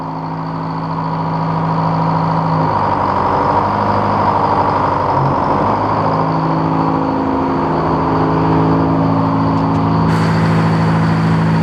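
A sawmill's engine turns over and settles into a loud, steady running drone, holding a constant close hum with no talk over it.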